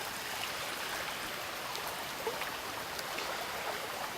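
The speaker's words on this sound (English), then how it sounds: "to take advantage of the flow of this little creek we have" A small creek on an off-grid rural property in Colombia flows with a steady, soft rushing wash of water throughout.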